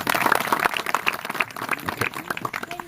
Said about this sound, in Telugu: ఒక్కసారి అన్నయ్యకి మళ్ళీ ఒకసారి చప్పట్లు కొడదామా